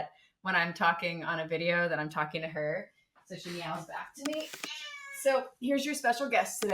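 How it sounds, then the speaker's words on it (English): A pet cat meows back at a person talking, a couple of short meows mixed in among close, steady speech. "my cat thinks that when I'm talking on a video that I'm talking to her. So she meows back to me."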